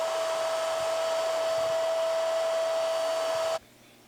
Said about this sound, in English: I will go with my vacuum cleaner and really get in like the grooves right here.